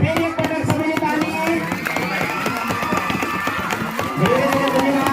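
Audience at a music event cheering and clapping in a dense, continuous roar with shouts and scattered claps, loud and close throughout, voices calling out over it.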